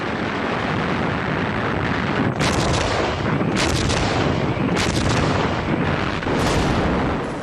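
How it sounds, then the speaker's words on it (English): Artillery fire in World War II North Africa battle footage; a dense, continuous roar of distant booms and rumbling blasts, loud and unbroken throughout, with no voices. "Rommel's artillery took a terrible toll."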